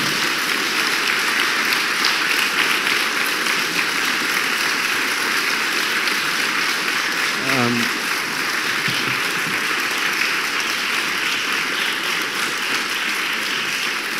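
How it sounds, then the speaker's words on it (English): An audience applauds the speakers at a panel discussion, a dense, steady wash of clapping that fills the whole stretch at even loudness with no break. "please give a round of applause to our speakers"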